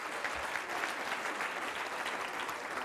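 Audience applause at a speech fills the space with steady, dense clapping from a sizeable crowd, fairly even in level throughout and heard alone without voices.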